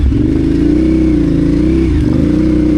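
Adventure motorcycle engine drones loud and steady while riding through snow, the rear wandering and sliding, with a brief dip and surge in revs midway.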